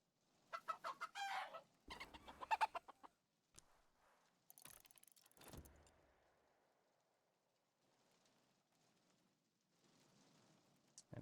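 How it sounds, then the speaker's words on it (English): Chicken clucking at the coop in the video game Book of Hours: several short, clear bursts of clucking and fowl calls with quiet gaps between them and no talking. "Where's the chicken coop right now?"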